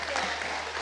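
Studio applause on a Radio Nacional live music program in Peru for a singer: a brief, dense burst of clapping carried over the broadcast.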